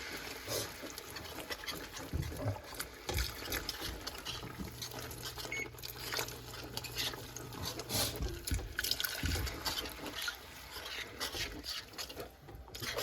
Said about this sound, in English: I am gonna pour 3 cups of milk, but I'm gonna pour it slowly